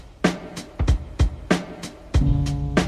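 Repetitive hip-hop drum pattern, with punchy kicks and snares in a looping groove and a low sustained tone joining near the end, close and unaccompanied by speech.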